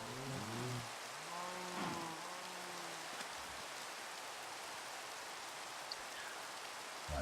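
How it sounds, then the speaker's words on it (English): Rain falling in a forest biome in Minecraft, a steady, even hiss of raindrops that fills the whole stretch, with a brief voice-like tone near the start. "It's raining in the forest biome"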